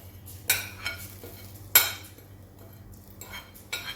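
Spices being stirred into mixed vegetables for achar, a utensil scraping and clinking against the bowl in a few sharp, separate strokes, close and fairly quiet, with no talk.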